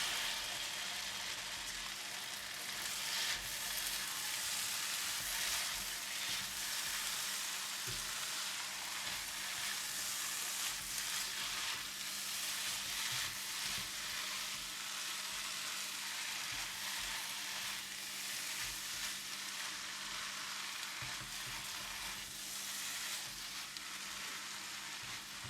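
Flat rice noodles stir-fried with minced meat, cooked eggs and shrimp sizzle steadily in a hot pan, with a constant close frying hiss and faint stirring scrapes, no talking.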